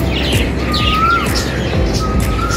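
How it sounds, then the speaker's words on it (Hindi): A koel and other birds sing outdoors in a garden aviary, with clear whistled rising calls and busy chirps repeating over steady background noise. "इसमें कितनी प्यारी आवाज़ आ रही है कोयल की"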